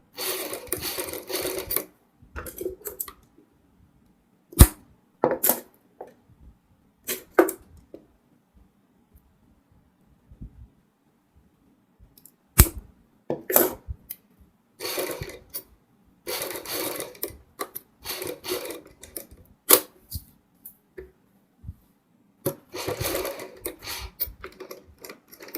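Short bursts of a sewing machine stitching lace onto a kurti neckline, each run a few seconds of rapid clatter separated by quiet pauses, close and fairly faint with no talking.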